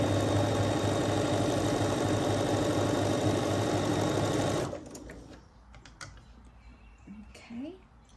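A sewing machine runs steadily, stitching through a thick seam on a pieced quilt, loud and continuous for several seconds before stopping abruptly, leaving quiet handling noises and a brief voice.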